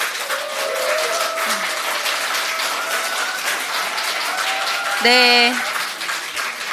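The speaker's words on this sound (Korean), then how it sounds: "큰 박수를 부탁드립니다." Applause from the audience at a Democratic Party floor leader candidates' joint debate, steady clapping throughout with someone speaking briefly near the end.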